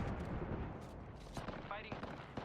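Gunfire in Apex Legends rattles in quick bursts during a firefight, faint and mixed with game voice callouts and busy combat noise.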